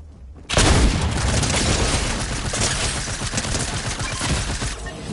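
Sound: cannon firing in a video game

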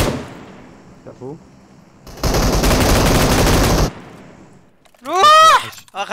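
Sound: gunfire in a battle royale video game

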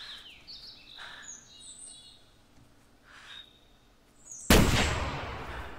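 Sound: hunting rifle shot in the video game theHunter

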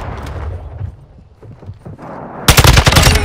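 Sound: machine gun fire in the video game MW2

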